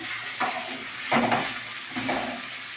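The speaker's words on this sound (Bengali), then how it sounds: "লবণটাকে ভালো করে সাথে মিশিয়ে নিলাম" Salted vegetables frying in a pan while being stirred, a steady sizzle broken by a few scraping, clinking strokes of a utensil against the pan, heard close and alone.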